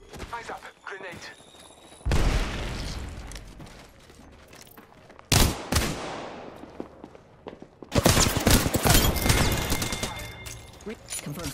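Gunfire bursts in the video game Valkyrie, with loud volleys of shots near 2, 5.4 and 8 seconds and quieter clatter and thuds between them, heavy sustained firing toward the end, and faint voices in the background.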